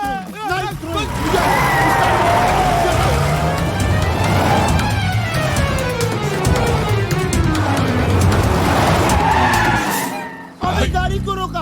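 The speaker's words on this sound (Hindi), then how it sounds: "अबे गाड़ी को रोका, भगा, डोनू, भगा।" Car tyres skidding loudly with squealing, wavering screeches while the engine revs and the car speeds off, continuous and close for about ten seconds before cutting out abruptly, with voices shouting over it.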